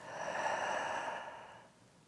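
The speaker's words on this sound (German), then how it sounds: "Ausatmen." A long, steady exhale during a standing lower-back exercise, one breath out that is close and fairly soft and fades toward the end, with no talking.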